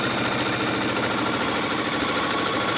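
A sewing machine runs steadily, stitching the inside seams of a tote bag and going over them more than once, with a loud, fast and even mechanical whir and rapid needle clatter and no speech.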